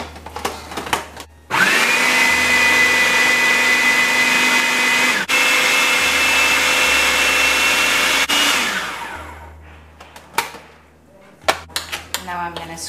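A kitchen blender purees savory peppers, garlic and tamarind juice in a loud, steady, high whir for several seconds before it winds down. Light clatter of utensils and dishes comes before and after.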